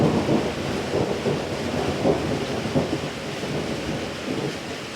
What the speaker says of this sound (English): we've been listening to the thunder because it's been impressive